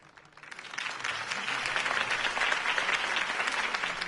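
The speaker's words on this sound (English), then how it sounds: "If only Mr. Wayne, my campaign's largest backer, could have heard that applause" A crowd claps continuously, rising quickly from a quiet start into a steady, full wash of applause that holds to the end, after a campaign speech in Telltale's Batman game.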